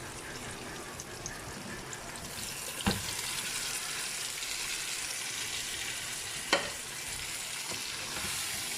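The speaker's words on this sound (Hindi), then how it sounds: "अब हम इसमें अपना वो डालेंगे गोश्त जिसको हमने मैरिनेट किया हुआ था" Marinated meat frying with browned onions and tomatoes for Karachi Memon-style biryani: a dense, steady sizzle with two sharp spoon clacks against the pot and light stirring.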